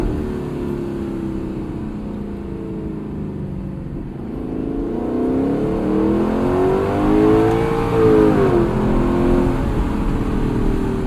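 A 2018 Lexus LC 500 with a torque-converter automatic accelerates hard, its engine note climbing steadily in pitch, dipping at a gear shift, then rising again loud and close from inside the cabin, with no talking.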